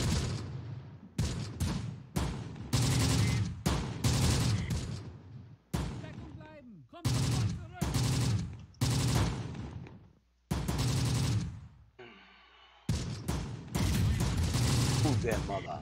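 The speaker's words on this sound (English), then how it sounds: "Why are you shooting at something?" Gunfire from the WWII strategy video game Close Combat: The Bloody First, with loud bursts and volleys of shots and machine-gun rattles in quick clusters, separated by brief gaps.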